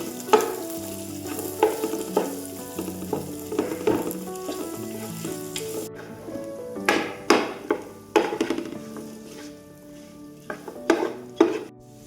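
Sliced onions for chicken curry sautéing in a pan, with a sizzle under repeated close spatula scrapes and sharp metallic clanks in an uneven rhythm, and no talking.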